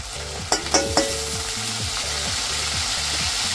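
Soaked moong dal frying in oil in a pan, a loud close sizzle with a few sharp clinks at the start, then steady frying carrying a faint regular ticking pulse, no talk.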